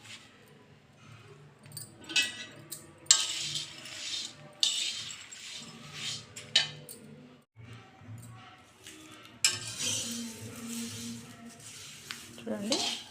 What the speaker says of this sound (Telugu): ఇలా అంటే సౌండ్ చూసారండి, పచ్చి అయినా బాగా మరమర వచ్చేసి సౌండ్.